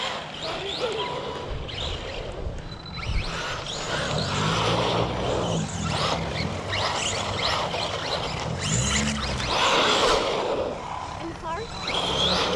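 A 1/16 scale Katana 4x4 2S RC car drives outdoors near a drain, its small motor buzzing steadily throughout amid loud wind and background noise, while an adult and someone talk over it.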